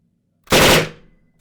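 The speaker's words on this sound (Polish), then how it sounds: "Zaraz sprawdzimy, na ile to celne i jaki jest odrzut tego pistoletu." A single short burst from a PPSh submachine gun in a World War II tank video game, loud and close, with a rapid rattle that cuts off sharply and leaves a brief fading tail.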